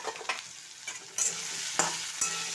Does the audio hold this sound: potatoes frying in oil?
yes